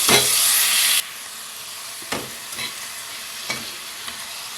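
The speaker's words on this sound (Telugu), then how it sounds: "ఇదంతా ఒక్కసారి బాగా కలుపుకొని మూత పెట్టుకుందాం" Masala-coated murrel fish pieces are stirred in a pan, opening with a loud, bright sizzle for about a second, then settling into quieter scrapes and occasional spoon strokes against the pan.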